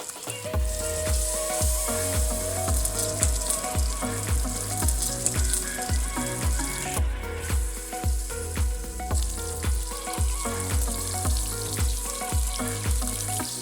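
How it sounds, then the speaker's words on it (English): A wagyu steak sears in hot rendered beef fat with rosemary and garlic, giving a steady close sizzle that runs throughout under a rhythmic musical beat, with no talking. "when it's hot, we add our rosemary, garlic, and the steak"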